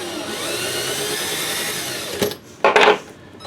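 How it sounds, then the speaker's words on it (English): A Lee hand trimming kit cuts 5.56/.223 brass cases with a steady whirring scrape that stops abruptly, followed by a short burst of clinking metallic handling. "I'm digging this little Lee trimming kit."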